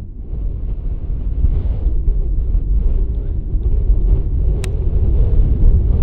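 Strong wind of about 45 mph buffets the microphone on an open golf course, a loud continuous low roar and rumble that keeps up steadily with no talking.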